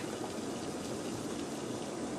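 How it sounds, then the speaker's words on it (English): Water boiling in a pot, ready for beef brisket, makes a steady rolling bubbling hiss that stays even and continuous throughout, with no one talking. "Got some water boiling"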